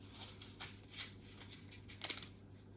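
Playing cards are shuffled in a few quick riffling bursts, soft papery flutters close by in a quiet room.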